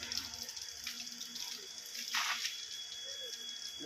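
Tap water running into a sink in a home, a steady splashing flow with a brief louder gush midway, fairly close, with faint background murmur.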